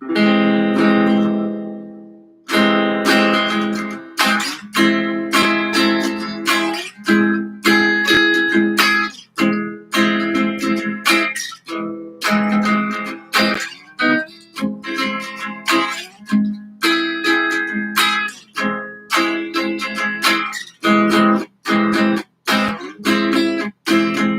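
Guitar plays the inside chord voicing over and over in a choppy rhythm, clean and close, with short strums and muted gaps between them and no voices.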